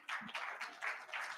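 Audience applause at a policy gathering, a faint, distant patter of clapping in short swells across the room.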